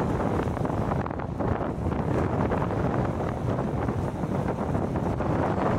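Strong wind at the shore at high tide buffets the microphone with a steady, loud, broadband rumble and roar that lasts the whole clip, and no one speaks.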